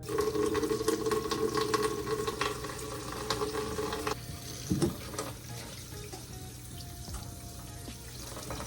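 Hot tap water runs steadily into a kitchen sink while salmon is rinsed for a Valentine's Day dinner, a continuous splashing rush that drops in level partway through, with a brief clatter near the middle.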